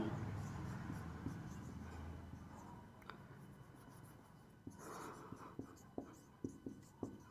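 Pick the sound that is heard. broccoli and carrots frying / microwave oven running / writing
writing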